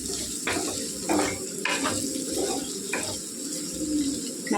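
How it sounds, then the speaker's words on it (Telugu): Potato and carrot pieces frying in a pan, a steady sizzle with periodic scraping stirs of the spatula against the pan, close and continuous. "ఇంకొక 10 నిమిషాలు వేగితే సరిపోతుందండి."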